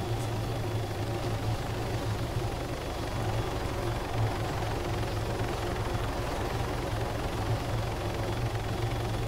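A helicopter in the ArmA 3 video game drones steadily with a low rotor thrum and engine hum, holding a constant level for several seconds with no talk over it.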